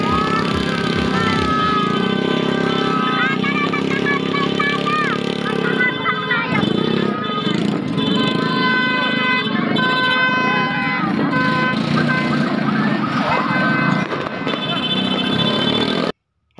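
Motorcycle engines rev loudly alongside a car during a New Year celebration at a home in the Philippines, the buzzing engine tones rising and falling for the whole stretch. Horns toot and voices are heard in the mix.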